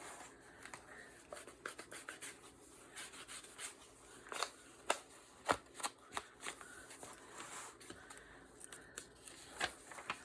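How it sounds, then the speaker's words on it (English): Paper torn by hand for a journal: faint, close scratchy rips and rustles come in short irregular bursts, with no talking. "And this, I'm actually going to just tear."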